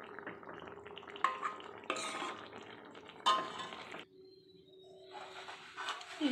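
A metal ladle scoops well-boiled potato curry out of a pot, giving a few close, quiet scrapes and clinks against the pot with short pauses in between.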